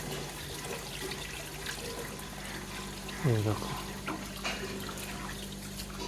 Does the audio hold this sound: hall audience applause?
no